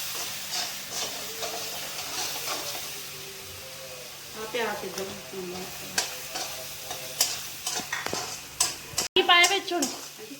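Onion and tomato cooking with turmeric, salt and spices in a pan, giving a close sizzle with repeated stirring scrapes and clicks, under intermittent speech.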